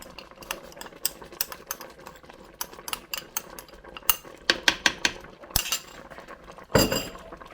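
A spoon stirs candied ginger into thick rhubarb jam in a pot, giving close, irregular metallic clinks and scrapes with a couple of louder scraping bursts near the end, and no voices.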